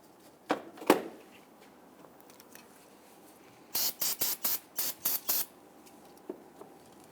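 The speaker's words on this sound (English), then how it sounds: "Use some spray solvent." Two short sounds, then a rapid series of six sharp aerosol bursts of solvent cleaner on 2000-2006 Toyota Tundra brakes in an even rhythm, followed by a faint tap.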